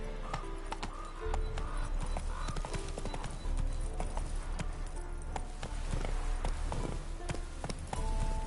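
Horse hooves clip-clop steadily at a gallop in The Witcher 3, a continuous rhythmic drumming that sits over a layer of game music throughout.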